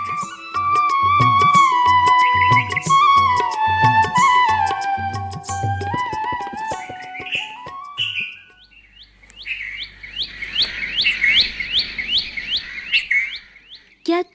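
A bulbul singing, bright repeated chirps and whistled notes in quick phrases, loud and close, with a melodic passage at first followed by a run of sharp rising calls.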